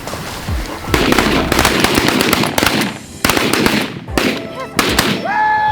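Rapid volleys of loud, close shotgun blasts ring out while hunters shoot at mallard ducks in Kansas, several overlapping bursts in quick succession with excited shouting between them.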